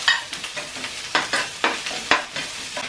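Ginger paste and onion fry in a little coconut oil in a pan, giving a close, soft sizzle broken by repeated scraping and stirring strokes at an irregular rhythm, with no talking.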